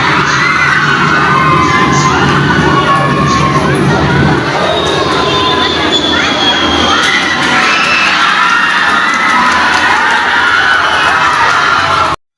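A large crowd of students cheers and shouts continuously at a school performance. The screaming and whooping is loud and sustained for about twelve seconds, then cuts off abruptly.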